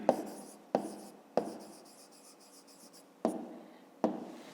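Chalk or marker writing on a board while a fifth-grade math exercise on angles is solved, with five sharp taps each followed by scratchy strokes, close and with no talk.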